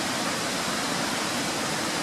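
Mountain stream or brook rushing far below a steep wooded slope near waterfalls, a steady broadband wash of water filling the whole clip, with no talk.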